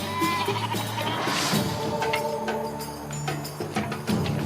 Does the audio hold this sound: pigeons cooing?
no